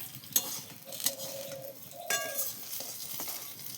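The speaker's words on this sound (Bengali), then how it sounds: "সব বেগুনগুলো এবার নামিয়ে নেব আস্তে আস্তে" Fried eggplant slices being lifted one by one out of a kadai during vegetarian cooking, with a soft sizzle of oil under a few sharp clinks and scrapes of a utensil against the pan.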